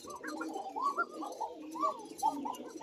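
Soft, repeated pigeon cooing, several overlapping low burbling calls in a steady stream, fairly close, with no talking.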